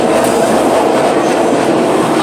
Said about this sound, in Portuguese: Metrô do Cariri aqui, ó. Direto da cabine.